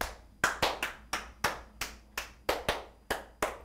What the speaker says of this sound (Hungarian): Amikor a tapsot jobbra vagy balra adjuk